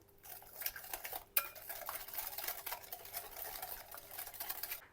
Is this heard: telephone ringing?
no